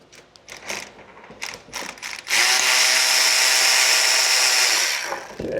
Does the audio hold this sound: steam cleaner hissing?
no